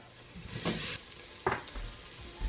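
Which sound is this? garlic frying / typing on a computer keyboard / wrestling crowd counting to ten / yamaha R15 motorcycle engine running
garlic frying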